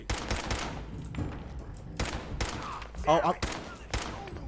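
Gunshots in Fallout 4 crack out in irregular, closely spaced volleys, loud and punchy, while someone briefly speaks between the shots.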